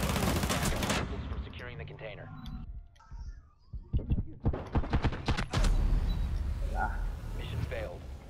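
Bursts of rapid gunfire crack through a busy game soundscape, with clustered shots midway and a voice talking over much of it.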